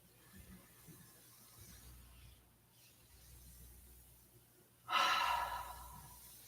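A deep breath during a yoga session: a soft, quiet inhale followed by a louder, airy exhale near the end, close and alone with no talking.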